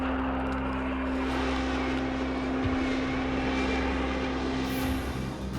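An F-4 Phantom jet flies with a steady, loud engine roar and a constant tonal drone, holding level throughout with a slight shift near the end.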